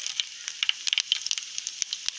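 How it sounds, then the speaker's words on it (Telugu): Tempering seeds crackle and pop in hot oil in a kadai with dried red chillies, made for a bottle gourd masala curry; the scattered sharp pops sit over a faint, steady sizzle, close but quiet. "పోపు గింజలు వేసుకుందాం."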